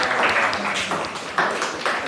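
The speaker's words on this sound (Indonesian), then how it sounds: "tepuk tangan" A classroom group claps in a short burst of dense applause that rises and falls over about two seconds, with faint voices mixed in.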